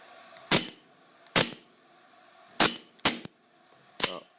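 Tanfoglio Witness 1911 pistol, a blowback action, firing five sharp cracks at uneven intervals, each loud and close with a brief rattling tail, and no talking.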